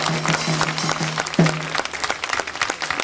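Audience applause at an outdoor amateur talent show in Ruvo di Puglia, a dense steady burst of clapping with a faint sustained tone running beneath it, fairly close and continuous.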